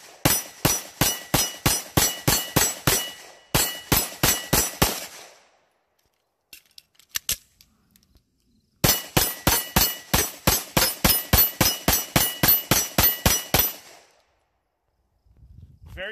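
An Arex Rex Delta pistol fired at a range: two long strings of evenly spaced, loud, sharp shots, each followed by a gap of near silence, then a final long string of rapid shots.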